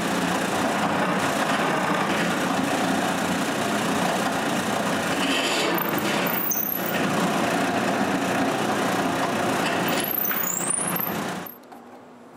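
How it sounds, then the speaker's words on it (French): Drill boring a pivot hole through a wooden tripod leg piece, a steady continuous whirring grind held close and loud for most of the stretch, then cutting off abruptly near the end. "je perce le trou du pivot"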